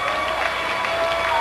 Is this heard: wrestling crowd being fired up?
yes